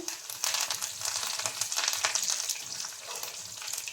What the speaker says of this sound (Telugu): ఇప్పుడు కరివేపాకు, ఎండుమిర్చి వేద్దాము.